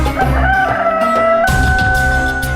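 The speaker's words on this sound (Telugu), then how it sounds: "ఇది కోడి కూత అంటే దాని అర్థం తెల్లారిపోయిందని" A rooster crows loudly and close by, a long drawn-out call followed by a second crow right after.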